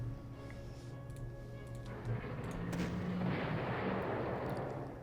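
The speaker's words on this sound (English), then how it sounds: "We had some anti-aircraft fire going on." Anti-aircraft fire in the World War II strategy game Panzer Corps, a series of booming rumbling bursts over a low droning tone, building into a sustained crackle of distant-sounding shots.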